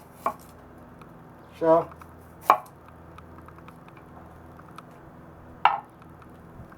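A thick W2 chopper knife, super quenched to 62RC and ground 0.51mm behind the edge, slices through food in a few sharp, separate chops over a quiet background, with a brief spoken word.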